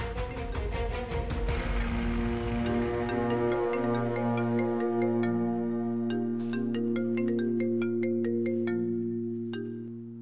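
A phone rings with a loud, looping electronic melody that plays alone for about ten seconds during a call scene in a Pakistani TV drama, then fades slightly at the end.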